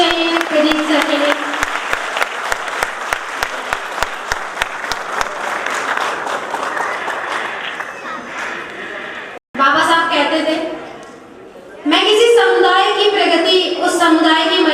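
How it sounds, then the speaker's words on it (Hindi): Audience at an Ambedkar Jayanti celebration applauding loudly for about nine seconds, with dense rapid clapping, then a brief pause before speech and music-like voices follow. "जोरदार तालियां बतालियां बजती रहनी चाहिए प्रदीप सर के लिए"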